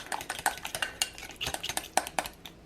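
A utensil scrapes and clinks quickly and steadily against a bowl while mixing corn flour into jam, with sharp metallic ticks in an even rhythm.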